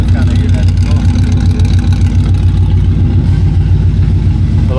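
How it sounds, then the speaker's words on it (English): A 1968 Chevrolet Impala SS idles with a deep, loud, steady exhaust rumble close by, the low throb continuous throughout with no clear revving, and a voice partly over it. "Let you guys kind of hear that exhaust a"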